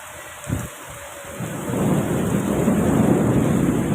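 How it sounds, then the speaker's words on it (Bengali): Loud thunder rumbles through heavy rain, opening with a short crack and then swelling into a broad, sustained roar of downpour and rolling thunder. "তার সঙ্গে তো মেঘ ডাকছে"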